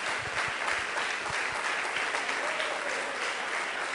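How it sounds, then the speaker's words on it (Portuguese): A church congregation at a mission testimony gathering in Itaituba claps together in sustained, dense applause that carries evenly through the whole stretch, with faint voices underneath. "Agora, pode aplaudir a Jesus agora."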